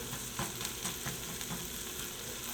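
Sautéing in a pan while preparing mussels gives a steady, close sizzle and crackle that runs through the whole moment with no talking.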